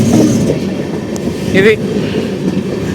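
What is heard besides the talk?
Amrit Bharat Express train running on rails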